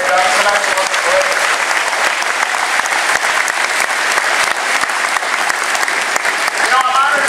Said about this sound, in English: If we can give them a quick round of applause for everything they've done tonight